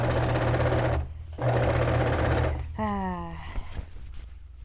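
A sewing machine stitches the long skirt of a dress sewn from bed sheets, running in two near bursts with a brief pause, then stopping as a faint mechanical whine trails off.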